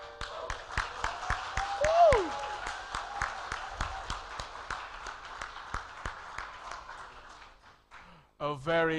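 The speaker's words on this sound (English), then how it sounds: "Another applause for BDJ" Audience applause at a diplomatic cultural forum, a steady patter of many hands clapping at moderate volume for several seconds, with a short musical tone sweeping through near the start and speech-like sounds rising at the end.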